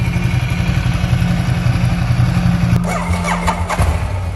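Ducati motorcycle engine running close by with a loud, pulsing low idle, followed by a sharp change and a few throttle blips near the end.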